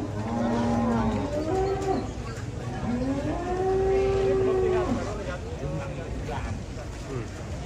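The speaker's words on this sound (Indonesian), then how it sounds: "Sapi jumbo di pasar Jelok ini." Giant cattle at a livestock market in Boyolali give several drawn-out moos, rising and falling over a steady crowd murmur with people talking in the background.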